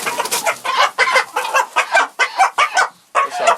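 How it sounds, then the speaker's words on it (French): Red chickens on a small homestead cluck continuously and close by, a busy overlapping chorus of choppy calls with a few short pauses. "Ça c'est du poulet rouge."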